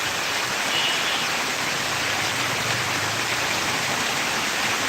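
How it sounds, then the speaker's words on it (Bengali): Torrential rain falls in a thick, continuous wash of noise, loud and even throughout, with no talking over it. "দেখুন কী পরিমাণে বৃষ্টি"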